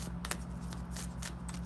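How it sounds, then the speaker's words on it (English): A deck of tarot-style cards is shuffled by hand, with rapid soft riffling bursts repeating over a low steady hum, faint and close. "I'm gonna shuffle one more time"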